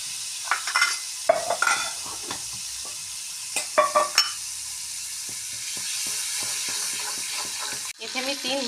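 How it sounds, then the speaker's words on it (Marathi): Butter with a little oil sizzles in a pan as the base for pav bhaji, a steady hiss broken by scattered clinks and short stirring scrapes, ending with a brief bubbling burst. "यामध्ये मी 2 चमचा बटर घालत आहे. याचबरोबर बटर जळू नये यासाठी यामध्ये मी थोडंसं तेल ॲड करत आहे"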